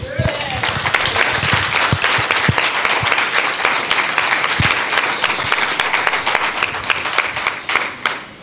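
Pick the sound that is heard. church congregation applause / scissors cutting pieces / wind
church congregation applause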